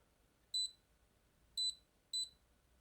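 Three short electronic beeps from a digital scale, high and thin, the first and second a second apart and the third following quickly, each a quick double pip over quiet background.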